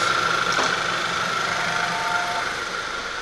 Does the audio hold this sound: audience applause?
no